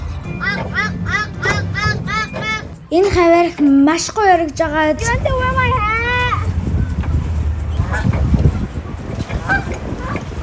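A flock of geese honks and quacks loudly in quick repeated calls, then a person speaks briefly as wind and splashing noise continue.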